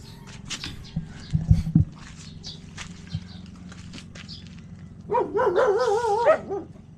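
A dog barks a few times nearby, then gives a drawn-out whine, with footsteps and light background noise around it.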